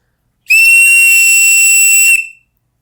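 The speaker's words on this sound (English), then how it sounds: "we have the Streamlined safety whistle, part number 46041, attached to a lanyard" A Seachoice Streamlined safety whistle, part number 46041, on a lanyard gives one loud, shrill, steady blast lasting about one and a half seconds, close and alone, then cuts off into silence.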